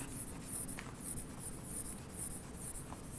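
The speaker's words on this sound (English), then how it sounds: "Let me first erase this." Writing on a board being erased during an English grammar lesson, a steady continuous rubbing and swishing that runs throughout at moderate, even loudness with no talk over it.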